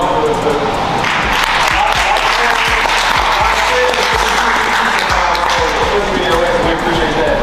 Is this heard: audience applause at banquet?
yes